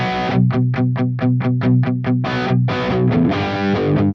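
An electric guitar with heavy distortion, reamped through a Nux MG-300, plays a rhythmic run of short chugging chords, then a few longer ringing ones, loud and dry.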